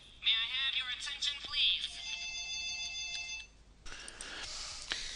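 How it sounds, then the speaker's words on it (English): A phone ringing together with text message alerts: a loud warbling ringtone, then steady electronic tones, then a further burst of alert sounds, close and with no talking. "Both the phone and my text messages started going"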